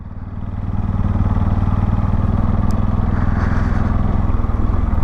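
A motorcycle rolls downhill over rough terrain at a nuclear test site in India, its engine a loud, close, steady rumbling drone with a rapid pulsing beat and no speech.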